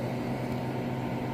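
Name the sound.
freeze dryer running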